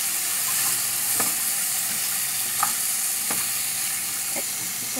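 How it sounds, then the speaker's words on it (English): Garlic sautéing and starting to stick in a pan for an Ilokano vegetable pork stew gives a loud, steady, close sizzle. A few sharp clicks from a stirring utensil break through it at intervals. "some of the garlic are sticking in the pan already"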